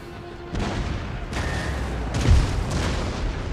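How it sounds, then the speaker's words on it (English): Musket volleys fired during a video game battle, a handful of sharp booming shots spread across a few seconds, fairly loud over a steady battlefield background. "Got a great first volley on that cav."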